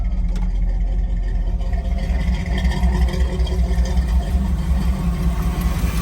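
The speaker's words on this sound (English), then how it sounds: "let you take a listen to the engine" A 1978 Chevrolet K10 pickup truck engine with headers idles loudly and steadily, a deep rumbling drone with a rough, throbbing texture and no talking.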